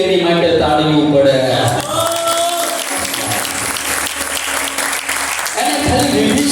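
An audience at a spoken religious discourse bursts into sustained applause, dense clapping over several seconds, with a voice speaking over it before and after.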